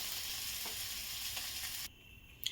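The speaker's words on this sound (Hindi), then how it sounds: "आलू अच्छी तरह से भून चुका है।" Potatoes fry in a pan of hot oil with a steady broad sizzle and a few soft stirring scrapes; the sizzle drops away sharply near the end as the pan is taken off or the flame lowered. No one speaks.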